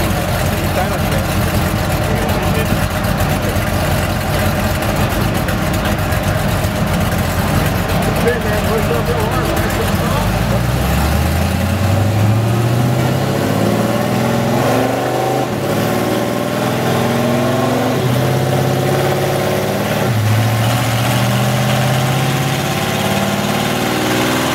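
A motorcycle engine runs steadily throughout, idling with a rising pitch sweep midway as it revs and settles, loud and continuous, with some talk over it.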